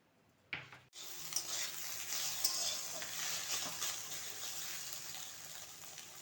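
Egg and potato frying in a pan, a steady close sizzle that starts after a brief rush and a sharp knock, then continues evenly with faint stirring.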